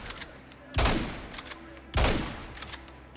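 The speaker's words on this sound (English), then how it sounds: "I'm trying to see where I'm getting shot from." Gunfire in the survival game Icarus: two sharp, loud bursts about a second apart, each a heavy crack trailing into a short rumbling decay, with faint lighter pops scattered between them.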